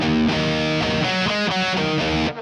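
Electric guitar with distortion playing a quick minor third riff, a short run of separate picked notes, loud and heard alone.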